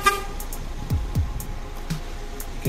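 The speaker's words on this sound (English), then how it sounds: "You get those two beeps when you leave the car with the key in your pocket." Two short electronic chirps from a 2019 Ford Mustang EcoBoost Convertible as the owner walks away with the key, a soft pair of beeps with low engine-bay rumble and faint background noise, no voices.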